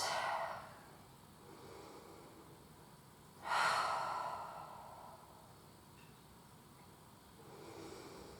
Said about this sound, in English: taking some nice deep breath in and out